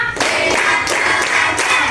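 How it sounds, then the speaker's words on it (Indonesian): A classroom of grade 4A pupils claps together in a counted pattern, dense group clapping in a few bursts with short gaps between them, loud and close. "Tepuk 1, tepuk 2, tepuk 3, tepuk 4, tepuk 5"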